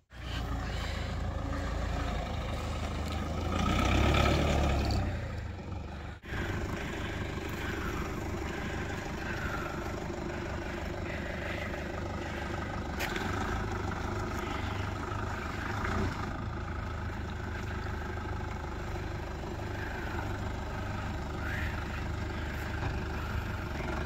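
A 4x4 engine climbing a small off-road slope with axle articulation on new tires, a steady low rumbling drone that swells briefly early on, then holds at an even, moderately loud level.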